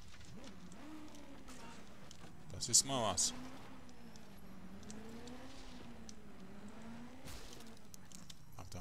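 Car engine in the open-world game Just Cause 2, a steady droning tone that rises and falls in pitch as it revs, with someone talking over it and a couple of sharp clattering bursts.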